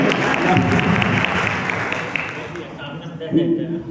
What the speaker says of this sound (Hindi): एक बार मैम के लिए भी जोरदार तालियां